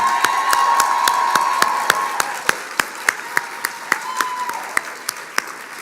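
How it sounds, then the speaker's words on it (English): Audience clapping at a graduation awards ceremony, a full, even round of applause from a room of people, joined by sharp, regular clicks that stand out as the clapping thins toward the end. "I want to give a special round of applause to Bianca Morales"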